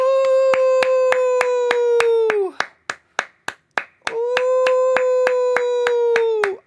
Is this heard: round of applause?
yes